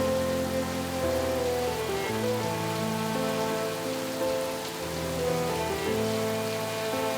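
Steady rain falls with a dense, even hiss throughout, layered over sustained tonal music.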